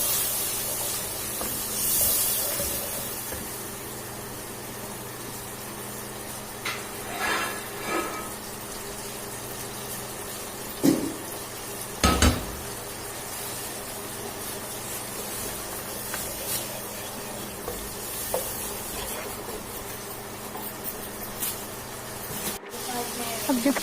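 Water poured onto curry spices frying with turmeric in a pan sends up a broad steaming hiss that fades to a softer sputter, with a voice talking in places.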